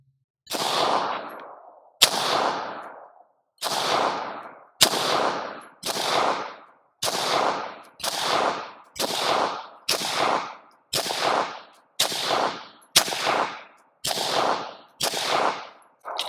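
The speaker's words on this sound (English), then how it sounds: "let's go ahead and put some rounds on target" A Taurus GX4 handgun fires a slow, evenly spaced string of about fifteen sharp, loud shots at a target outdoors, each crack followed by a short ringing tail, with no talk.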